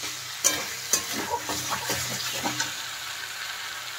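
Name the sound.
fried cauliflower stirred into spice masala in a pan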